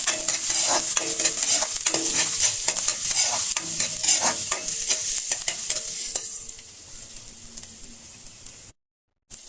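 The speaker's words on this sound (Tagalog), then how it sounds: "magigisa na tayo ng ating mga ricado. Yan. Ito na yung ating sibuyas at saka bawang." Onion and garlic sauté in a hot pan, a loud, steady sizzle broken by stirring scrapes, with no voices, then the frying quiets and briefly drops out near the end.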